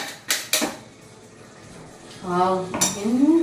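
Spoon clattering in a pot as fried potatoes and beans are mixed with ground masala, a few sharp metallic scrapes and knocks close by, then a voice speaking briefly.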